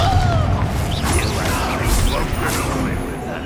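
A Confringo blasting spell goes off during a Hogwarts Legacy duel, a loud booming burst amid ongoing spell effects and clashing noise, with a voice shouting over the fighting.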